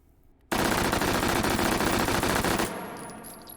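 An H&K MP5 submachine gun fitted with a muzzle brake fires one loud, rapid, continuous full-auto burst of about two seconds in the H3VR video game, then the sound rings off and fades.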